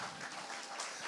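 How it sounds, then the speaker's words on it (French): A church congregation applauds during a worship service, a soft, steady wash of many hands clapping, fairly distant and quiet for a brief moment. "Est-ce que tu peux applaudir le Seigneur?"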